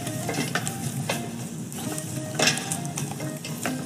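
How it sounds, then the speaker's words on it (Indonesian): Food being stirred in a pot while it sizzles and fries during stock making, a steady crackle with soft scraping strokes and one brighter clink midway, no talking. "setelah itu kita aduk sebentar"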